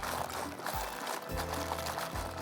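Water pours steadily into a pot for boiling shell macaroni, a continuous, fairly quiet rushing stream with slight changes in flow.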